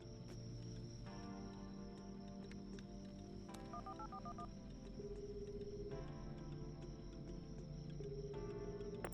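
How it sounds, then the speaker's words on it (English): Touch-tone telephone keypad beeps as a number is dialed in a convenience store night-shift video game, a short run of DTMF tones over steady game music and ambient hum, with no talking. "So let's go make some phone calls."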